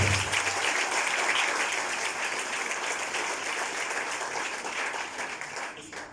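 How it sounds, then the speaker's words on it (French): Wedding guests applaud the newlyweds after the civil ceremony vows, a broad, even wash of clapping that holds steady for several seconds and tapers off near the end. "Sous acclamation s'il vous plaît"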